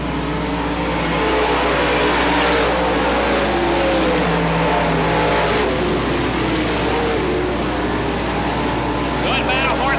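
Late model race cars thunder around Merritt Speedway in a steady, loud engine roar that swells and fades as the pack passes, with an announcer calling the race over the noise throughout.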